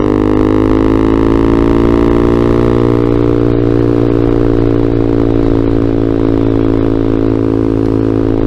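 Vader ZS190 Honda Grom clone motorcycle engine under throttle in high gear while riding, a loud, close, continuous drone whose pitch creeps slightly upward, with no talking over it.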